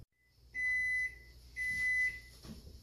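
A kitchen timer goes off with two long, clear electronic beeps about half a second each, separated by a short gap, over quiet room tone.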